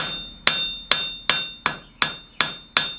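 Seven evenly spaced hammer blows ringing on steel while forging a planishing foot tool, loud and close, each strike leaving a bright metallic ring that decays before the next.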